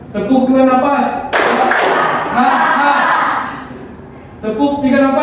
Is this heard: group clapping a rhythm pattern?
yes